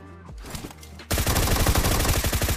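Automatic gunfire in the battle royale game PUBG Mobile, a sudden loud stretch of rapid shots bursting in after a quieter moment with music, close and continuous to the end.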